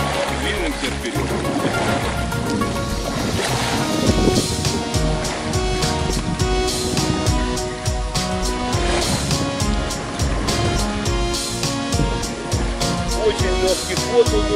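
Boathouse Sea Fisher 410 inflatable catamaran gliding through water, with a steady wash of waves and hull splashing against a continuous motor drone, someone talking over it throughout.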